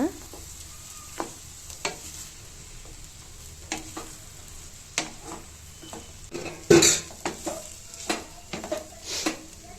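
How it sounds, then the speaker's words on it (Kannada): Mint rice is turned and mixed in a pan with a spoon, giving scattered soft scrapes and light clinks against the metal at an irregular pace, with one louder knock partway through. "ಈಗ ರೈಸ್ ಹಾಕ್ಕೊಂಡು ಮಿಕ್ಸ್ ಮಾಡ್ಕೊಳ್ಳೋಣ"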